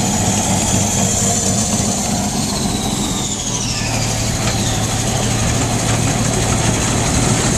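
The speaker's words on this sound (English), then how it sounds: "we better run it a little bit, idle it, and let it run." A 26 Massey combine engine idles steadily on a Nebraska oats field, a loud, continuous mechanical drone with a low hum and no breaks.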